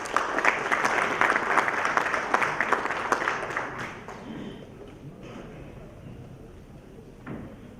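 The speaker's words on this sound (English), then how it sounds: "Please help me welcome him with a round of applause." Audience applause at a Trust Conference welcoming a speaker to the stage, a dense burst of many hands clapping that is loud at first, then thins and fades after a few seconds, with a few scattered claps trailing at the end.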